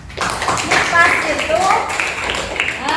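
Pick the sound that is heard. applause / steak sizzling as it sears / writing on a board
applause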